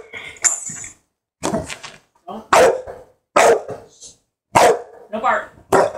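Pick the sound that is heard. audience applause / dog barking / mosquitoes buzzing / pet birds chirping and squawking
dog barking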